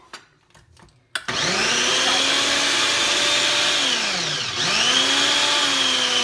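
A blender purees chicken gumbo ingredients with cilantro, starting after a few soft clicks with a loud, steady whirring roar that dips briefly in pitch midway as the load shifts, then picks back up.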